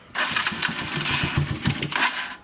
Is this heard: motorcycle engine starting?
yes